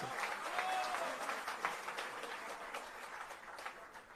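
A crowd at a Jain religious discourse by Muni Sudha Sagar ji Maharaj bursts into steady applause, a dense wash of many hands clapping that holds strong throughout and eases only slightly toward the end.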